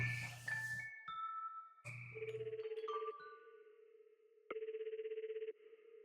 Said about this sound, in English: Emily, can't you dial the phone